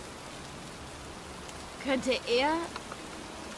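Steady, even rain hisses throughout a scene in the game Heavy Rain, with a short spoken phrase partway through.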